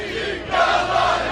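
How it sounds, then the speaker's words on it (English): A protest crowd in Libya is stirred up for a live news report, a loud, dense roar of many voices shouting and chanting together, steady and swelling slightly partway through. "the Al Jazeera crew is warming up the crowd in time for their next live"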